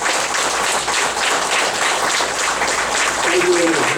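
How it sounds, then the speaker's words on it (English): Ongoing audience clapping at a meditation gathering fills the space as an even, busy patter of many hands, with a faint voice briefly emerging beneath it near the end. "More claps."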